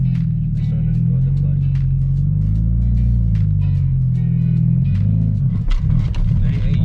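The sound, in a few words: manual car pulling away in first gear with racing clutch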